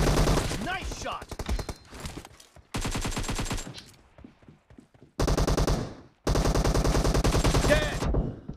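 Rapid automatic gunfire from first-person BGMI (Battlegrounds Mobile India) gameplay, coming in loud sustained bursts separated by short pauses, with dense rattling shots close up.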